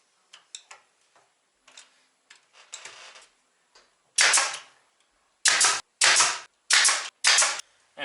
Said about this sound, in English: Right here, we're just going to take our nail gun